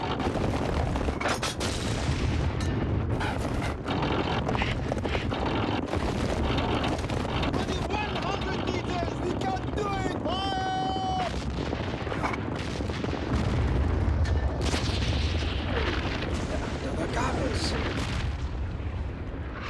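Artillery fire and shell explosions in a World War I battle in Palestine, 1917, as a continuous barrage of booms and blasts with wind rumble, shouted voices and a whistling tone mixed in.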